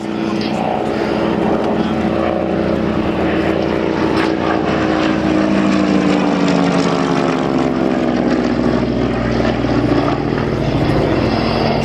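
A Harvard trainer aircraft flies past at a flying festival at Old Warden, its propeller engine a loud, sustained drone whose pitch gradually shifts, while a voice talks over it.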